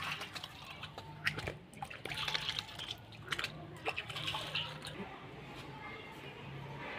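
Water trickles and splashes onto turnip plants in a kitchen garden, a steady low pour with scattered drips. Someone talks over it at moderate volume.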